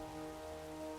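Steady rain falls in an animated Pokémon scene, a faint, even patter under a low sustained tone, brief and with no voices.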